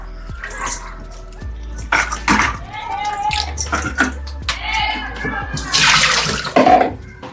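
Cut pieces of halibut fish, prepared for a curry, being washed by hand in water, with splashing and sloshing in bursts of varying loudness close by.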